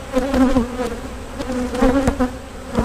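Honey bees buzzing around an open hive as frames are inspected: a loud, close, wavering swarm drone with individual bees passing near, with no talk.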